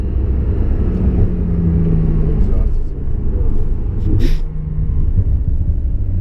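Porsche 911 Turbo S with a 560 hp engine, its exhaust giving a low, steady rumbling burble from inside the moving car, loud and continuous with a brief dip midway.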